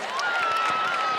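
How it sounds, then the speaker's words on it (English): Audience applause at an outdoor fan park after a canine demonstration, a steady wash of clapping with some crowd noise and a sustained tonal sound running through it. "Ladies and gentlemen, please give them a round of applause."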